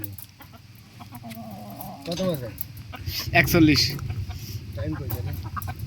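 Chickens caught in a palm plantation in Malaysia cluck and squawk nearby while someone talks over them.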